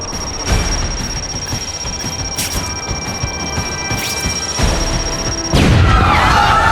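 Bomb explosion in The Amazing Spider-Man 2 video game on Xbox 360, a sharp loud blast near the end over a steady bed of game noise, with a few smaller thuds and bangs earlier.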